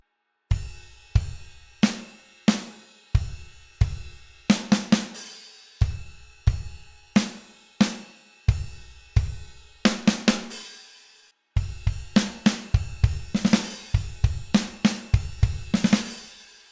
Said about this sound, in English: we've moved it up onto the ride cymbal, and the hi-hat sizzle still happens,